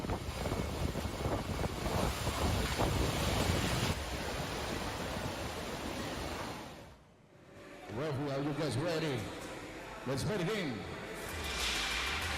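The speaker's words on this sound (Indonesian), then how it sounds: "diduga akibat angin kencang yang disertai dengan hujan" Strong wind with rain at an Aceh PON sports venue, a loud continuous roaring rush that briefly drops away midway, then returns under a speaking voice.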